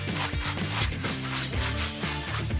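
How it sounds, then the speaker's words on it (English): A brush scrubs gray rubber paint onto wooden boards in loud, close, rhythmic back-and-forth strokes, one after another, with no voices. "We open the bucket, dip brushes into the paint, and apply a generous layer onto the wood."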